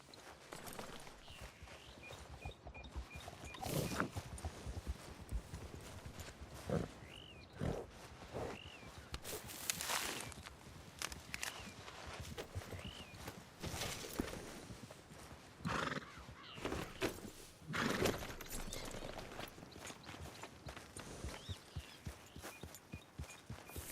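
In the Western video game Red Dead Redemption 2, a horse's hooves clip-clop at a walk on the ground, mixed with snorts, a whinny and other animal grunts, irregular and fairly close, with no talk.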